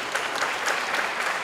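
An audience at an international circular-economy forum breaks into loud, continuous applause for a speaker taking the stage, a steady crowd clatter with no talking.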